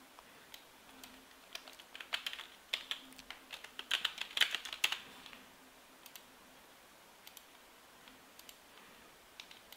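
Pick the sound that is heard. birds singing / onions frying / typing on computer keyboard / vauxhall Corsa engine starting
typing on computer keyboard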